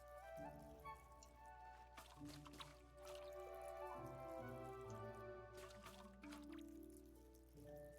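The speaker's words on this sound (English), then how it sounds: "My plants need watering." Watering plants in the video game Tales of the Shire: soft trickling and dripping water layered over gentle tonal game music, steady and low in level.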